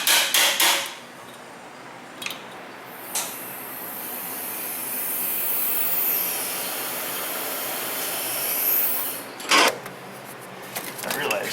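Metal tools work at exhaust manifold nut halves under a Ford F-150: sharp hammer-like clanks at the start and end frame a long, steady hiss of an air tool running in between.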